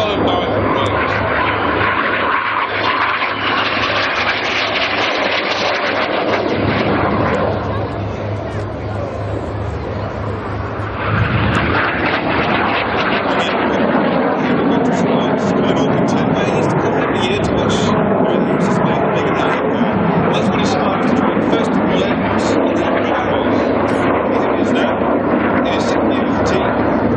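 Red Arrows display jets making a second pass at the Biggin Hill air show, a loud continuous roaring engine noise that swells and rolls on under crowd babble and commentary.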